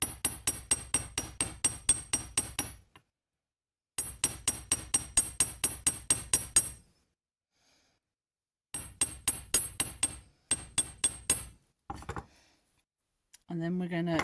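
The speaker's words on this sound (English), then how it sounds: "Keep hammering from both sides so it doesn't go out of shape." A hammer strikes twisted copper wire to flatten it in rapid, steady bursts of sharp metallic taps, about a dozen blows per run, separated by short silences and ending in a few scattered hits.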